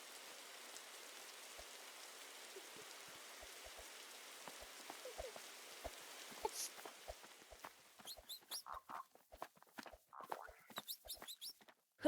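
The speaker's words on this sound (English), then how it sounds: "It needs to play the chocolate rain sound" Rain weather falls in the Grow a Garden video game, a soft continuous patter of drops with faint regular ticks, while voices chatter over it in the later part.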